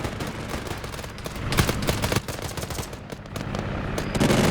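A grenade blast during a military amphibious hostage-rescue training exercise, heard among a loud, ragged burst of sharp cracks and booms over outdoor noise, with no voices.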